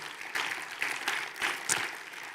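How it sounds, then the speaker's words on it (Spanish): A church congregation claps for the Holy Spirit in a sermon setting, a moderate, fairly distant burst of applause with uneven rhythmic claps throughout. "Den un aplauso fuerte al Espíritu Santo."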